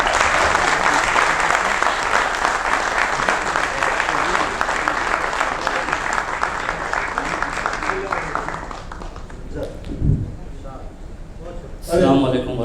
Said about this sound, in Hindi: वो आपकी पुरज़ोर तालियां